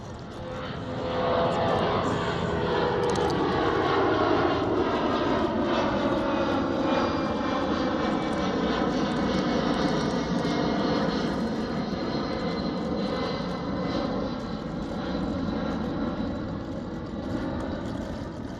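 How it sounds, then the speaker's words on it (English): A jet airplane takes off near coastal sand dunes by Dockweiler beach, its engine roar rising and then holding loud and sustained, gradually shifting in pitch as it climbs and passes overhead. "Another jet taking off."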